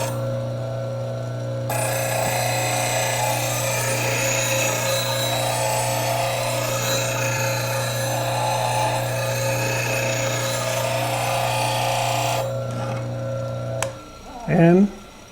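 A bench grinder runs steadily as a woodturning tool is sharpened on it, with a constant motor hum and a bright whirring rasp of steel against the wheel that stops near the end, followed by a brief spoken remark.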